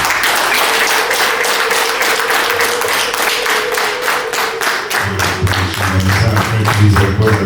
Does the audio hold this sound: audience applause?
yes